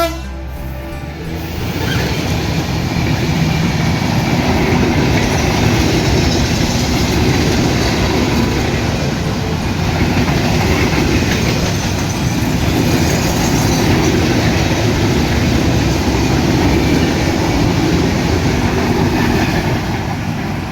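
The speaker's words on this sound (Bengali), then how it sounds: "ছিয়াষট্টি 35 সিরিজের লোকোমোটিভ নিয়ে খুলনা থেকে ছেড়ে আসা সিলাহাটিগামী 727 up Rupsa express Tilekpur rail স্টেশনের 2 নম্বর লাইন দিয়ে থ্রো পাস করে চলে যাচ্ছে" The 727 Up Rupsha Express, pulled by a 6635-series locomotive, runs through Tilakpur railway station on line 2 without stopping, producing a loud, continuous rumble and clatter of wheels on track with faint squeals, and no talk.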